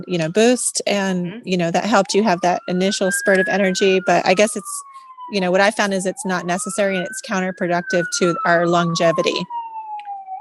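Emergency vehicle siren passing outdoors, a wailing tone that rises and falls in long sweeps, heard faintly behind a person talking continuously close to the microphone.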